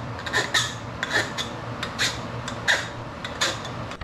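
A hand file scraping the metal edges of a homemade intake pipe for a Mazda Miata project, heard as close, repeated rasping strokes in an uneven rhythm with no voices.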